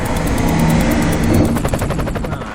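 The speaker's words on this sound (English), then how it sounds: "Ah, shit, the helicopter's back." A helicopter in a low-budget goth exploitation film thumps loudly nearby, steady rotor chopping with a rumbling engine underneath, the beats growing more distinct toward the end, no talk.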